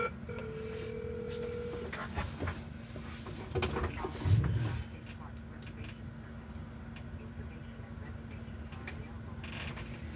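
A faint automated telephone menu plays with a short burst of keypad dialing tones, under steady background hum and engine-like noise from a vehicle.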